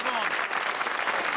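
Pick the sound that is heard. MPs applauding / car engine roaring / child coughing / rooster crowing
MPs applauding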